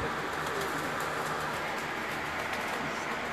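Pigeons coo softly amid steady broadband outdoor noise, a continuous low murmur of birds with no clear voices, at a pigeon fancier's loft.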